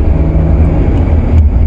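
Steady engine and road noise from inside a Chrysler 300C 3.0 CRD accelerating hard, a continuous low rumble with a slight rise in intensity, no voices.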